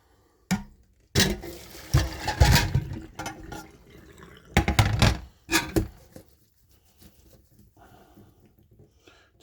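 Part-boiled potatoes are drained, with bursts of pouring and splashing water and clattering in a sink separated by quiet pauses, close and uneven.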